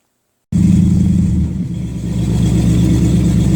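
A Cutlass with a 3-inch exhaust fires up after a moment of silence and revs loudly and steadily up close, its deep rumbling drone dipping briefly before it climbs again.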